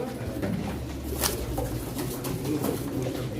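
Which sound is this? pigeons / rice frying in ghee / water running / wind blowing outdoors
pigeons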